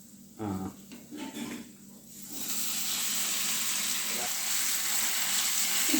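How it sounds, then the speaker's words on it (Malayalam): Sliced chicken goes into a pan of fried ginger and sets off a loud, continuous sizzle that swells after a few brief spoken words and then holds steady to the end. "അപ്പൊ നമ്മുടെ ഇഞ്ചി ഒന്ന് ഫ്രൈ ആയിട്ട് വന്നിട്ടുണ്ട്. സ്ലൈസ് ചെയ്ത ചിക്കൻ ഇതിലേക്ക് ആഡ് ചെയ്തു."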